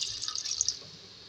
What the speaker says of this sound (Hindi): 2 गिलास इसके अंदर पानी जाएगा।